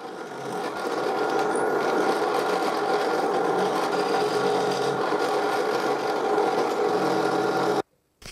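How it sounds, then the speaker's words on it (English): A drill bores guide holes into thin wooden strips for a display cabinet build, giving a steady, loud grinding whir for nearly eight seconds before cutting off abruptly. "I drill 2 guide holes in all the strips."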